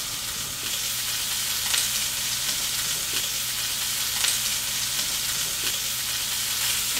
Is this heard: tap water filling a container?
no